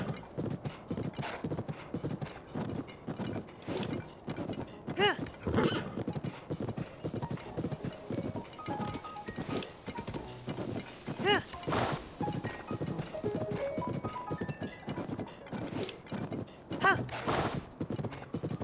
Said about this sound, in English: let me just grab this horse for now.